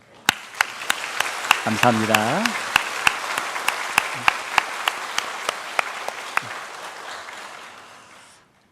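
Church congregation clapping during a Sunday morning service, a steady patter with sharp louder claps standing out, while a voice briefly speaks over it before the applause tapers off.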